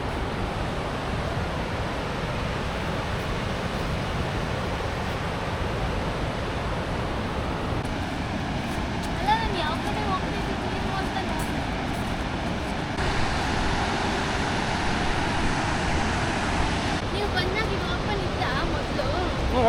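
Rain-swollen water rushes steadily near Harangi Dam in Coorg. The roar is broad and unbroken and sits close to the listener, with faint traces of a voice now and then.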